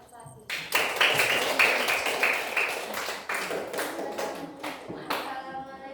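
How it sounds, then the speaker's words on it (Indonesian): A classroom of students claps for a group, starting with a sharp burst of many hands, then a dense rapid patter that gradually thins out, close and fairly loud. "Nah kalau jelas, tepuk tangan buat kelompok 1."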